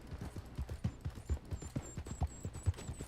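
Shire horse hooves clip-clopping steadily in Red Dead Online, an even repeated beat of soft thuds close by, with a faint high tone above and no talk over it.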